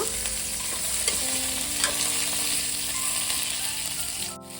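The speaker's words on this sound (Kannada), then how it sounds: "ಈಗ ಬದನೆಕಾಯಿನ ಸ್ವಲ್ಪ ಹುರ್ಕೋಬೇಕು ಅದು ಒಂದು ಅರ್ಧ ಮುಕ್ಕಾಲು ಭಾಗ ಬೇಯೋ ತನಕ" Eggplant pieces fry in a pan for a spiced masala dish, a loud continuous sizzle and hiss with occasional stirring scrapes, close and uninterrupted, ending with a brief clatter.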